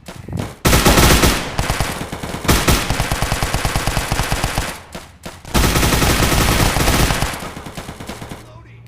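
Rapid automatic gunfire from the video game Hazmob FPS, loud bursts of machine-gun fire in several long strings separated by brief pauses.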